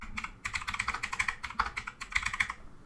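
Quick, uneven bursts of keystrokes on a computer keyboard, close and crisp, with short pauses between runs of typing.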